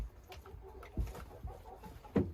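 Plymouth Rock and Rhode Island Red chickens cluck in short, scattered bursts nearby, a few low throaty notes spaced irregularly over a faint background.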